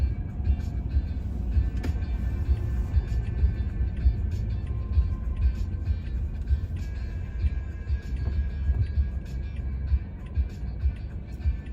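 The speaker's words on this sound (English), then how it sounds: "R8 Audis, they're fast." Steady traffic rumble on a New York City street, with passing cars that may include Audi R8 sports cars, a continuous low drone with no standout engine rev.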